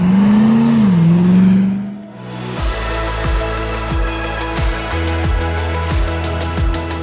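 Land Rover Defender 110 with a 6.2 litre GM V8 engine, a loud steady engine tone that swells and dips, then a series of sharp rhythmic revs repeating close by.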